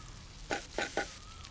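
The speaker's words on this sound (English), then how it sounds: "Saute them for a few minutes." Powdered turmeric, red chili, coriander and salt sizzle in a hot pan for squid chilli fry, three quick stirring bursts rising out of a soft steady frying hiss, close and fairly quiet.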